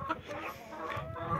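A hen clucks in a backyard chicken coop, several soft rhythmic clucks at close range with no talking over them.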